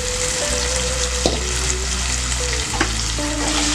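Wheat rava and moong dal being stirred in a hot pan give a steady, close sizzle of frying, with soft scraping strokes from the stirring running throughout.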